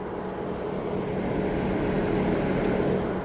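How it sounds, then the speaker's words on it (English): Cooling fans on an Audi RS6 Avant keep running after the engine is shut off, cooling the engine and turbos: a loud, steady, broadband whoosh like big industrial air-conditioning units, unchanging throughout with no talk. "When you turn it off, the fans come on pretty loudly to cool down the whole engine, cool down those turbos"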